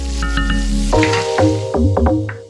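Chopped green pepper hits a hot pan with browned pork ribs, giving a loud close sizzle with stirring scrapes, frying continuing steadily with no talking.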